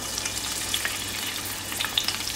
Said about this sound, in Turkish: Aşağı önce sarımsaklarımı koyuyorum.